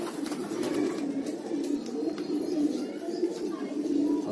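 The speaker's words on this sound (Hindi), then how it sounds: "इतने ज़्यादा कबूतर एक ही छत पे देखने का मौका" Many pigeons of old breeds such as Rampuri coo on a crowded rooftop loft in Bhopal, a steady layered murmur of overlapping low coos with faint chirps, moderately close and continuous without speech.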